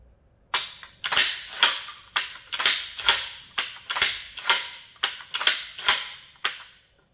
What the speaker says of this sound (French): on peut balancer la culasse avec une grosse énergie en arrière, et malgré tout, on arrive à éjecter